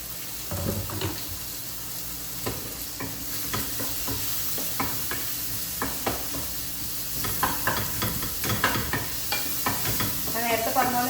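Onions fry in a pan for an egg rice masala, with a soft continuous sizzle broken by repeated spatula scrapes and stirring knocks that become busier and louder near the end.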